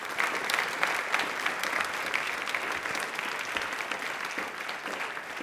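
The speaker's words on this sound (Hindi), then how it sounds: "प्लीज एक बार तालियां जोरदार बजा दीजिए" A studio audience on a Rajasthani television quiz show breaks into loud, sustained applause, a dense steady wash of many hands clapping alone, with no voices over it.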